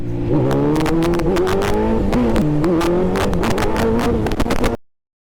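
A Kawasaki Z900 motorcycle revs hard and loud up close for a wheelie attempt, its engine pitch rising and dipping over about five seconds before cutting off abruptly.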